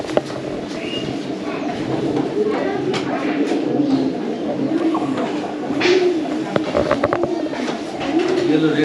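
Pigeons coo continuously inside a pigeon house in a village, rounded calls close and fairly loud, layered over background chatter and occasional sharp knocks.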